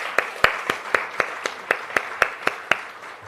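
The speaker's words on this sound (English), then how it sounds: "A round of applause for them, please." Applause for the sponsors at a Jamaica Diaspora Conference launch comes as a sparse, even run of about a dozen distinct claps, fairly faint and regular, like a few people clapping in rhythm.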